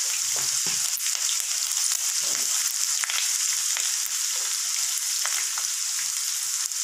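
Onion, garlic and curry leaves fry in hot oil for a mango prawn gravy, giving a continuous loud sizzle with small crackles and a few stirring scrapes, heard alone without talk.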